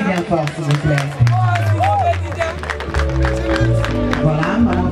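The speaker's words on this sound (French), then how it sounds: "On applaudit bien fort, s'il vous plaît." An audience applauds at an honouring ceremony for artists, with scattered clapping and crowd noise under a voice and tonal music.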